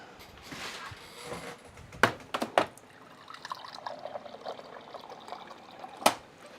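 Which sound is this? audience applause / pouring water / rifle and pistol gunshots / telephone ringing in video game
pouring water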